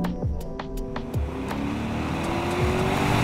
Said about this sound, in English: under the bonnet is a 32-valve, fire-breathing, 5-litre naturally aspirated V8. But once you push the accelerator a little bit, you work that one out very